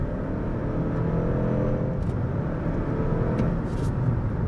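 A Lexus ES300h hybrid sedan accelerating hard in sport mode, a steady loud engine and road drone heard from inside the cabin, with no talking.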